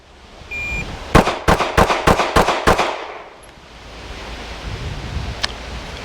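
Seven rapid shots from an HK P30 handgun crack out loud and close in a tight, even string at an outdoor range, followed by quiet ambience.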